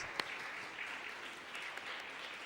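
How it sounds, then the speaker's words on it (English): Steady, soft applause from a crowd, a continuous wash of clapping heard from some distance with no voices on top. "Another round of applause"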